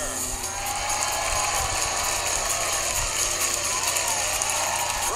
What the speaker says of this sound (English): you might not want to hear your gardener using